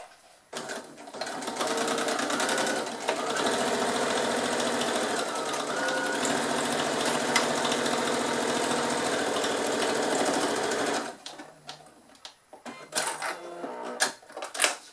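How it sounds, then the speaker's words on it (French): Sewing machine running a straight-stitch seam on a tote bag, a steady close whirring hum for about ten seconds before stopping, followed by a few handling clicks and rustles. "je vais faire une couture au point droit à 1 cm du bord"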